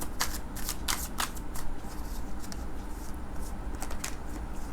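Tarot cards being shuffled close by, a continuous papery riffling with sharper flicks and slaps recurring throughout, no voices.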